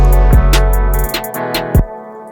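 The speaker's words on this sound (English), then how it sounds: "Let them hear the loop, just the guitars" Layered guitar loop with sustained harmonic tones and a few sharp plucked attacks cutting through, playing alone without any talking.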